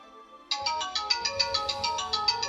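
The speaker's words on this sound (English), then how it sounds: "Great timing on the phone there." A phone ringtone sounds close and clear, repeating a bright electronic chime pattern in steady pulses for a couple of seconds, with no talk over it.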